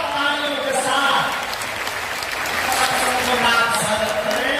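An audience bursts into applause to welcome saints arriving at a Bageshwar Baba katha, a Hindu religious gathering in Bundelkhand, Madhya Pradesh. Continuous, fairly loud clapping runs under a voice heard through the sound system.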